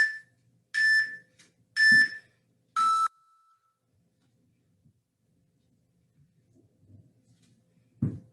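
Workout interval timer sounding four short bright electronic beeps in an even pattern, the last one slightly lower and longer, followed by near silence and faint movement.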